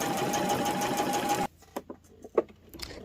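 Sewing machine stitching a rotary cutter pouch from layer cake fabric, a loud steady whir running for about a second and a half, then stopping abruptly, followed by faint clicks and handling noises.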